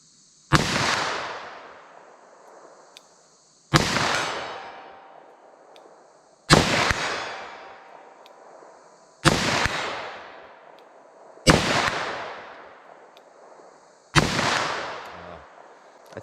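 Six single handgun shots, .357 Magnum or 9mm loaded with Hornady Handgun Hunter ammunition, fired at a target, each a sharp loud crack with a ringing decay, spaced roughly every three seconds, with no talk between them.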